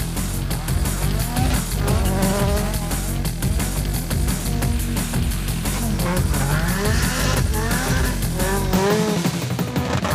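A Caterham 620R sports car, 310 hp in a 545 kg body, roars loudly and continuously, its engine note rising and falling through revs and gear changes before cutting off abruptly near the end.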